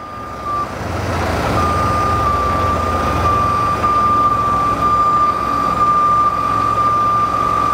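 A heavy Century 1075 recovery truck engine rumbles steadily and loudly while a high reversing beep sounds continuously over it.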